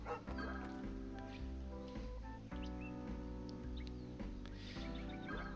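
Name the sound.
dog barking in Lost Kingdoms II video game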